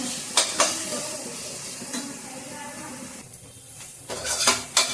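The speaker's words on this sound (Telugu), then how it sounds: "ఇది మంచిగా పుదీనా ఫ్రై అయ్యింది, మగ్గిపోయింది మంచిగా, పచ్చివాసన అంతా పోయింది." Mint leaves fry in a pan for pudina rice, a soft continuous sizzle with repeated clanks and scrapes of a metal spatula against the pan, heaviest near the start and again toward the end.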